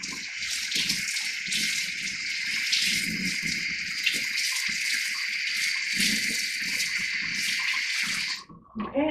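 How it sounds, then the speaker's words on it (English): Warm tap water runs steadily over a glass car rearview mirror being re-silvered, a continuous close gushing splash that cuts off near the end with a few drips. "I'm going to go ahead and rinse it off with some more warm tap water."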